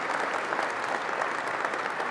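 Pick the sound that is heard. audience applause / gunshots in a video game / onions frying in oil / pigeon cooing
audience applause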